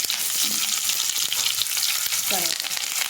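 Onion pieces fry in hot tempering oil with chana dal, cumin and mustard seeds, giving a loud, steady close sizzle with faint stirring clinks throughout and no talking.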